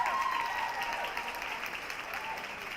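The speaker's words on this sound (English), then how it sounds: "Give her a round of applause for me, guys." Audience applause at a business award ceremony for stock brokerage firms, a steady wash of many hands clapping at moderate level with faint tonal traces, fading slightly toward the end.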